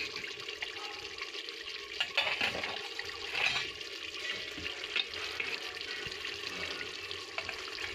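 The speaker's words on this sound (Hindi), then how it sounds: "गाजर, आलू और मटर हम इसमें डाल देंगे।" Carrots, potatoes and peas frying in golden-browned masala for a sabzi, a soft steady sizzle with intermittent stirring and watery bubbling, fairly quiet and close, no speech.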